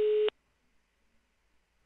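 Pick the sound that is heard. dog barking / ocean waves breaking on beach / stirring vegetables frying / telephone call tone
telephone call tone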